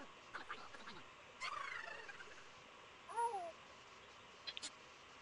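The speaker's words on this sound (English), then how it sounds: "you hear the cat inside the box" A cat trapped inside a box in the King's Quest VII adventure game gives a few short, plaintive meows, rising and falling, set against quiet ambient game sounds with no talking.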